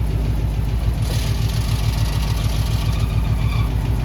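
An AMC 327 engine in a Jeep idles with the clutch pressed in, a loud, steady low rumble with a regular pulsing beat and a faint underlying whine running throughout.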